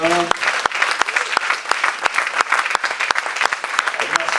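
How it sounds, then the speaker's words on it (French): A church congregation applauds together in sustained, dense clapping that fills the room at close range, with a few louder individual claps standing out and no voices over it. "Acclamons le Seigneur."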